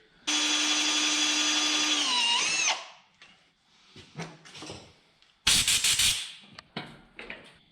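A loud power drill whines steadily for over two seconds while drilling out steel set screws on a Ditch Witch 1820 trencher, then winds down, followed by short bursts of drilling and scraping metal.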